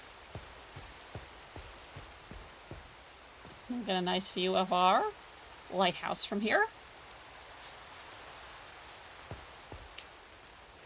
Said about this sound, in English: It's like how you can watch the rain just splash down.